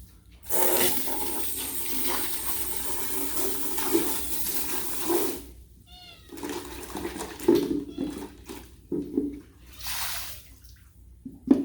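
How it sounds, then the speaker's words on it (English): Water running and splashing as aquarium fish filters and their parts are rinsed out under a tap, a steady wash broken by short pauses and small clatters, with no talking. "I'm just going to rinse everything out."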